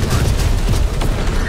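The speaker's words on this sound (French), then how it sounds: "Vas-y, canarde-le à travers le bâtiment" Heavy weapon fire tearing through a building in the game Terminator Dark Fate: Defiance, a rumbling barrage of booms and impacts at moderate loudness, with faint voices underneath.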